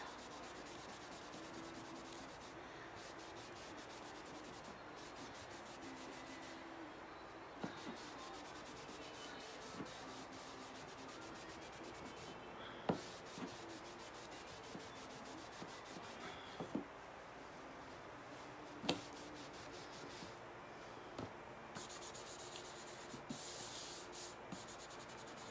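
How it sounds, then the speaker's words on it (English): White chalk paste is wiped off a Chalk Couture surface by hand, a faint continuous rubbing with occasional light taps and scuffs, close and quiet, with no talking. "I'm gonna wipe this, get that white off."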